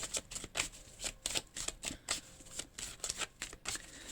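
Tarot cards are shuffled by hand in repeated crisp, papery riffles and slides, each burst short and close, coming in an uneven but steady rhythm with no voice over them.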